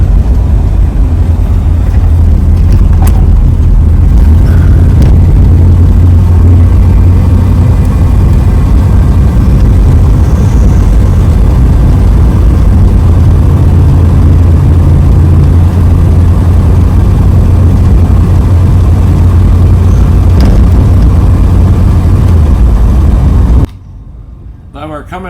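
Steady low engine drone and road roar from a 1966 Ford Mustang fastback cruising on a freeway, continuous and loud from inside the car for over twenty seconds before cutting off abruptly.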